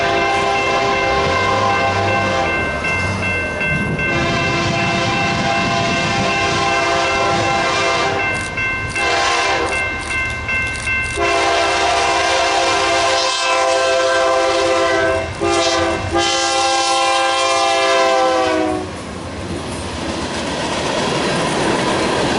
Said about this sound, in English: an empty hopper train.